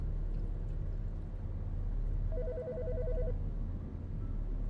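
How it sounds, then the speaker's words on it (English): A telephone rings in the video game Autopsy Simulator, a single warbling electronic trill lasting about a second, moderately faint over a constant low room hum. "It's just the fucking phone."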